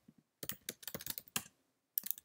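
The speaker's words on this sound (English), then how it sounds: "It makes my keys sound really loud." Someone types fast on a computer keyboard while coding. The keys click loudly and close to the microphone in quick uneven bursts, then stop for a short pause before a final flurry. No one speaks.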